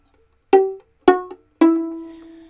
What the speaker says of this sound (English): Pizzicato is a method of playing the strings by plucking with your fingers without using the bow.